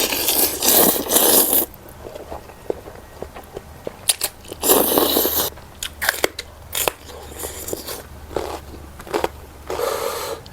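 Crunchy chicken feet eaten with Thai khanom jeen in coconut-milk curry, giving close, loud bursts of biting and crunching with brief pauses between mouthfuls.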